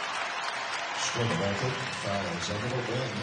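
A basketball crowd at a UMBC versus Vermont America East Tournament game roars in a broad, steady wash of cheering and applause, with a commentator talking over it.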